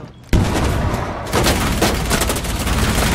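Dense, loud automatic gunfire from a Rainbow Six Siege match on PS4 bursts in abruptly and rattles on continuously with overlapping shots, with no talk over it.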